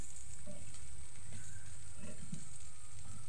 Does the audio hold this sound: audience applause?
no